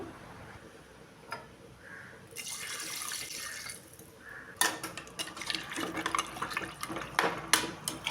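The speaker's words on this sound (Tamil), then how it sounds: "தண்ணி சேர்த்துடலாம் இப்போ வேகிறதுக்கு தண்ணி எடுக்கும் தண்ணி கொஞ்சம் கூடவே ஊற்றிக்கோங்க" Water runs and splashes into a pot of beef salna, a steady pour followed by louder irregular sloshing and clinks near the mic.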